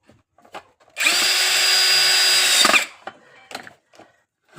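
Power tool driving a nut while fitting a main electrical switch, one loud steady whirring burst of about two seconds, followed by faint handling clicks.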